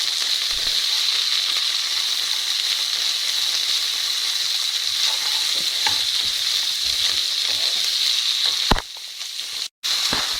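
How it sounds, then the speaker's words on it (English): Capsicums frying in a pan for Chilli Paneer, a loud, even hiss with small crackles throughout, briefly interrupted near the end by a clatter and a moment of near silence. "capsicums have been cooking for a few minutes"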